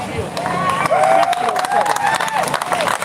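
Crowd at a political rally in Albany applauding and cheering, a dense wash of clapping with a loud voice speaking over it throughout.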